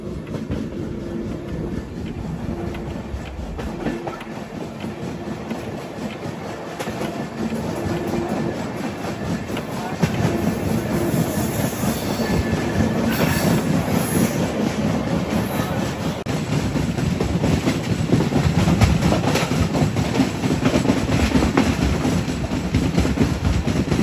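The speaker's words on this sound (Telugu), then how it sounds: "మెల్లగా ఘాటి ఎక్కుతుంది మన ట్రైన్" A train rumbles along steadily climbing a ghat section on the Visakhapatnam to Araku line in monsoon, with rhythmic clickety-clack from the wheels, growing slightly louder partway through.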